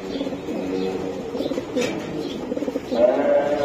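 Racing pigeons coo repeatedly at close range, a steady run of soft throaty calls with a louder burst near the end.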